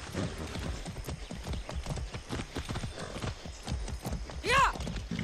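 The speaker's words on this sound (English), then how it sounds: "Let's ride the horse." Horse hooves in Far Cry 6 gameplay, a quick rhythmic clip-clop of a ridden horse with a brief whinny near the end, under game sounds.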